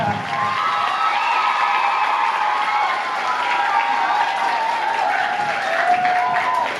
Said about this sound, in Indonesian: Beri tepuk tangan yang paling meriah.